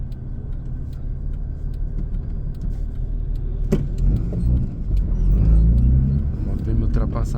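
A car drives along the road from Caruaru to Lajedo in Brazil, heard from inside as a continuous engine and road rumble that swells somewhat near the end. A voice talks over it, and a few jangling rattles come through.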